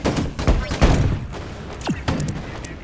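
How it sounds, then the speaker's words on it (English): Gunfire and explosions in a video game shooter, a series of thin, weak-sounding shots and soft thuds spread across a few seconds, close and moderately loud with a sweeping whoosh near the end. "Guns and explosions hardly feel like they're doing anything, visually and audibly."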